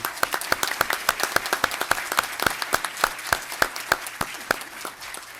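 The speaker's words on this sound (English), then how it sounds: "Can we give them a round of applause?" Steady applause from a city council meeting audience, sharp claps landing in a brisk, roughly even rhythm with no voices over it.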